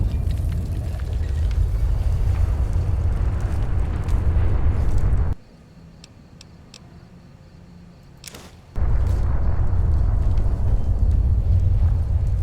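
A massive explosion in a Fallout: New Vegas–style game with Ulysses, a loud sustained rumbling roar that cuts off abruptly midway, leaving a quiet gap before the heavy booming rumble resumes at full strength.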